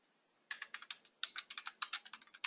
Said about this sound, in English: And in this case, I'm going to type systematic